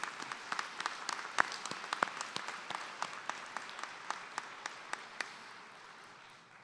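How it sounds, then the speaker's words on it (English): Graduates and guests applaud at a 2025 doctoral hooding ceremony, a faint, distant wash of many hands with sharper individual claps popping out, steady throughout and gradually thinning toward the end. "So give yourselves a well-earned round of applause for your direct contributions to this"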